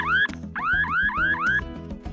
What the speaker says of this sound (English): we can set off an alarm on the app.